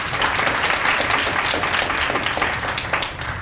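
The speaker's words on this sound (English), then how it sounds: "I want to give them and to all of you a round of applause" An audience at a fall QueenPins fundraiser in Nova Scotia claps loudly and steadily, a dense wash of applause that fades slightly at the end.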